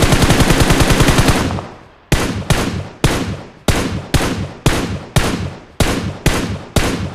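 Gunfire in a battle royale video game set in Yasnaya: a long sustained automatic burst for about two seconds, then around ten evenly spaced loud single shots, each with a short decaying tail, alone without talk.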